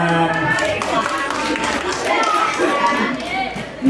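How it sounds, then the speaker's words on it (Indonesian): An audience at a school teachers' program in Sumbawa claps hands, sustained, dense applause lasting several seconds with crowd noise and voices mixed in. "Ya, tepuk tangan."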